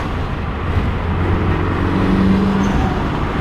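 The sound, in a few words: car engine with HKS exhaust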